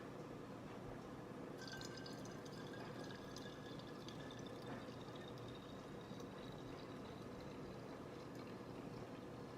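Spring water runs steadily into a bottle with a trickling, dripping texture over a constant low hum, close by, with no talking.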